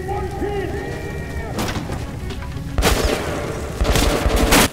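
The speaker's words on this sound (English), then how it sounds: "Looks like we're getting shot right there." Gunfire in Metro Last Light Redux comes in bursts of heavy, booming shots over a dense rumbling backdrop, with two louder volleys near the end.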